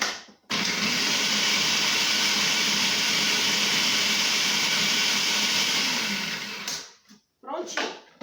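Electric blender whirring at full speed as it purees onion, fresh mint and spices for Arabic fried kibbeh, a loud steady roar for about six seconds that winds down and ends with a couple of short pulses.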